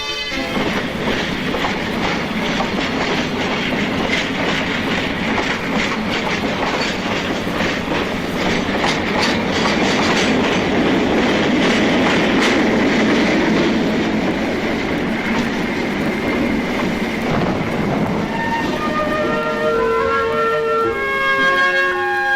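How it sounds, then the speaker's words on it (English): Heavy ore cars of the Great Slave Lake Railroad roll by with a loud, continuous rumble and rhythmic clickety-clack, and a faint metallic squeal rises near the end. "ore cars of the Great Slave Lake Railroad load at the plant and send the pay dirt on its way"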